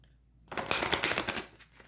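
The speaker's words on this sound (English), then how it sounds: "now I'm going to shuffle again after I prayed" Tarot cards being shuffled by hand, a dense burst of crisp riffling and flapping that starts after a half-second of near silence and runs for over a second, close and fairly loud, with no talk.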